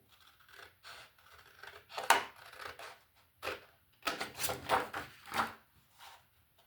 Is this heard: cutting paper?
yes